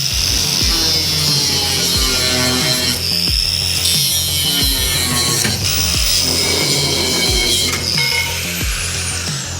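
An angle grinder cuts metal parts on a 1941 rat rod body, a loud continuous whine with a gritty rasp and repeated short dips as the cut shifts, heard close up without talk.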